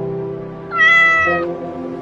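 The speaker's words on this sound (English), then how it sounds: "Cat." A cat gives a single clear, drawn-out meow in the middle of the clip, loud and close over a quiet steady background hum.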